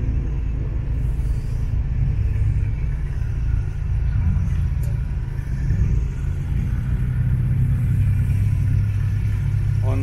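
Cars run at the Red Bull Ring racetrack during a trackday, a continuous low rumble of engines with some revving, steady and moderately close, with no talking.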